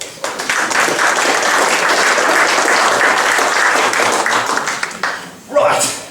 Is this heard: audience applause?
yes